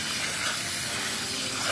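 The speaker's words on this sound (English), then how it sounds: "we're gonna grab the water hose and just spray it down from the inside actually out" A garden water hose sprays steadily through a K&N air filter being rinsed from the inside out, a loud continuous hiss lasting the whole moment without any talk.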